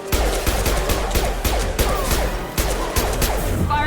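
Gunfire in the sci-fi shooter Mass Effect 2: a steady, close stream of rapid shots with sharp evenly paced cracks running loud and continuous throughout.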